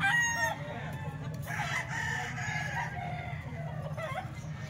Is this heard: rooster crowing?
yes